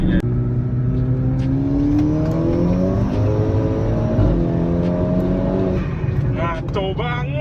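Car engine revving through rising and falling pitches while a new clutch and Wavetrac limited-slip differential are tested, a steady loud drone lasting several seconds with a few brief higher revs near the end.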